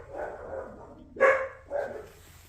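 Puppies barking in a few short yips and barks, fairly close and moderately loud, with quiet gaps between the bursts and no talking.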